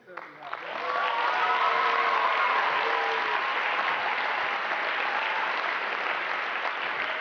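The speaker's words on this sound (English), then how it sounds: "I would like a big round of applause for Andrew, Gary, the entire Formula One school team." Large crowd at an F1 in Schools awards gala giving a big round of applause for a Formula One school team, swelling quickly into sustained loud clapping and cheering after a few opening voices.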